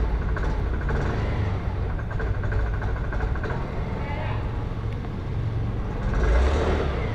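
A vehicle engine idles at about 2,000 RPM, giving a steady low rumble and whir, with someone talking over it throughout.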